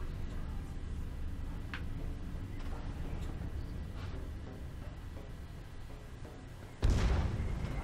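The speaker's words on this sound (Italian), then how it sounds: "Ma sparano anche a me?" Gunfire in the video game Alien Breed Impact comes as faint, distant thuds over a low rumbling background, then one louder burst near the end.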